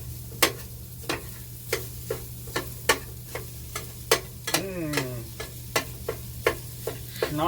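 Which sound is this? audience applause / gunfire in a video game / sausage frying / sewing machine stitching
sausage frying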